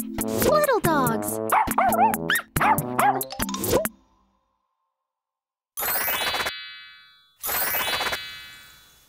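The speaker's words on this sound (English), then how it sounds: "Big dogs. Little dogs." Barks from a big dog and a little dog, set in a baby learning program about animals: a few sharp barks and yips at the start, then two separate sustained bursts later, the dogs heard alone with no talking.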